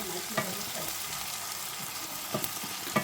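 Masala with onions frying in a pan for an Andhra-style mutton tripe dish, a steady soft sizzle with a few brief stirring clatters, close and on its own.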